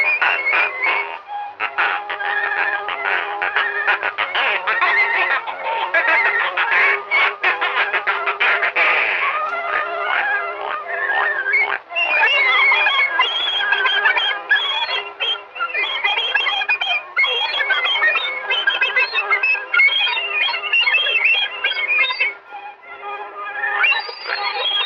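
A cartoon mallard duck from Steamboat Willie gives loud, nasal, reedy honking squawks in rapid runs over an old soundtrack, continuous and busy with brief pauses, no talk over it.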